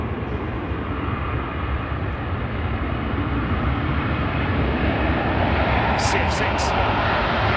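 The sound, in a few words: Boeing 777 with Pratt and Whitney engines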